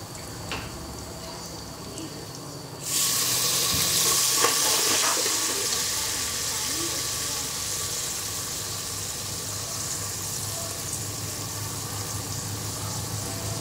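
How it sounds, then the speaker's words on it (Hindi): Water pours steadily into a cooking pot of frying whole spices for pulao, a sudden sustained splashing hiss that starts a few seconds in and continues at close range under faint background noise. "थोड़ा हल्का सा पानी ऐड करेंगे।"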